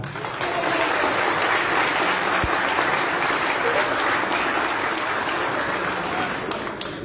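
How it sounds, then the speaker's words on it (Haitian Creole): Steady, loud applause from a crowded audience, a dense continuous wash of clapping that holds evenly for about seven seconds with faint voices underneath. "Battons bravo pour lui qui a annoncé ça"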